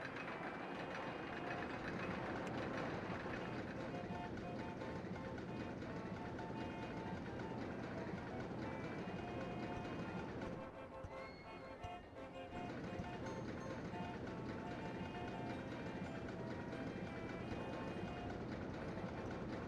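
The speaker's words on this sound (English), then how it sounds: "I didn't think that the monorail would be that fast" A monorail ride runs in the Rollercoaster Tycoon game as a steady, dense rumble of rolling wheels and machinery, with a brief dip in the middle before it resumes at full level.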